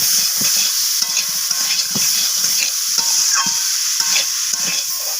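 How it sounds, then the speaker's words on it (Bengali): Mixed vegetables with cut eggplant are stir-fried for a prawn chorchori, a loud close hissing sizzle with repeated rhythmic scrapes and knocks of a spatula tossing them in the pan. "তো আবারও সমস্ত কিছু এইভাবে নাড়াচাড়া করে কষিয়ে নিচ্ছি"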